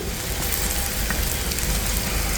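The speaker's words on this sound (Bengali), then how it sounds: "খুব সুন্দর করে একদম অল্প তেলে ভেজে নিচ্ছি" Puffed rice chops bound with a little cornflour shallow-fry in a small amount of oil, giving a loud, close, steady hiss of sizzling with no talking over it.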